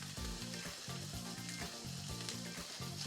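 Turkey bacon fries in a pan over medium-high heat, giving a steady close crackling sizzle with dense popping spatter throughout.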